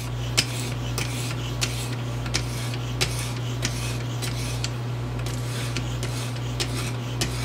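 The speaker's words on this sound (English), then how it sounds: "working the stone across the blade" A knife blade is worked on an EdgePro Apex sharpening stone, giving a rhythmic series of short gritty scrapes roughly every half second over a steady low hum.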